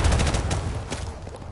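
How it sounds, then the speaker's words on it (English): An explosion in a video game, a dense loud roar of blasts and crackling bursts that fades slowly over about a second and a half. "There's an explosion for you!"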